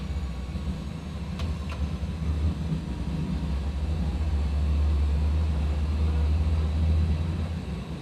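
In a flight simulator airliner, the landing gear extends under a steady engine drone, and a low rumble swells midway and holds before easing slightly.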